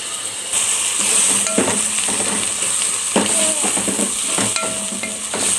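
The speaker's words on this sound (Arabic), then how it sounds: "بعد كده بقى هنزل عليها بشويه شوربه صغيرين، وهفضل اقلب خالص لغايه لما تنعم معايا" Onions frying in a pan with broth for a tripe tagine, stirred constantly: a steady, loud sizzle with scraping and clinks from the stirring utensil, and no talking.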